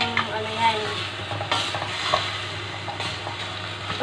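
Chicken binakol being stirred in a pot as it fries, with soft scraping stirs and faint sizzling, close and fairly quiet.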